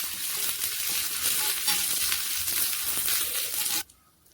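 Dried red chillies and curry leaves frying in oil with popped mustard seeds in an iron pan for a Kerala sadya tempering; a loud, close, crackling sizzle with stirring scrapes, cutting off abruptly near the end.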